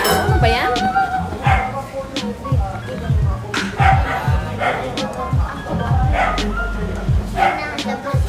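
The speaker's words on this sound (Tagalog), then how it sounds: "Ingay ng mga aso." Several dogs bark repeatedly at a beach resort, yips and woofs scattered across the clip over steady background noise, with people talking throughout.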